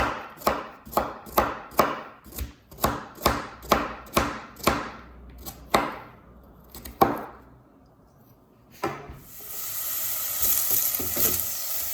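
Knife strikes on a cutting board in an even rhythm of about a dozen close, crisp chops, then a few scattered knocks, before a hiss of finely cut vegetables frying in a pan for minestrone rises and holds steady.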